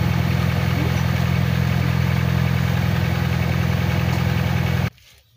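Honda Civic engine idling steadily, a continuous low mid-pitched hum with even vibration, close and fairly loud, cutting off abruptly near the end into near silence.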